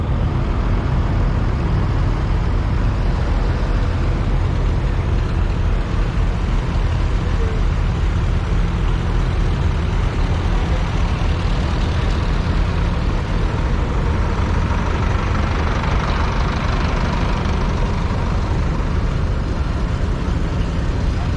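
Tractors rolling in at a steam threshers show, a continuous loud low engine rumble and drone of heavy machinery passing close by without pause.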